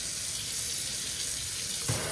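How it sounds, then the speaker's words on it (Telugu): Hot water pours steadily from a sink faucet in a home bathroom, a constant hiss of running water with a brief splash near the end. "ఇప్పుడు దీంట్లోనే ఇలా లెఫ్ట్ సైడ్ తిప్పితే మనకి ఫుల్ చాలా హాట్ వాటర్ వస్తాయి"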